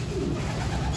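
Racing pigeons in a loft, soft low cooing over a steady murmur of birds, close and continuous, with no talk.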